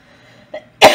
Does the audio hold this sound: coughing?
yes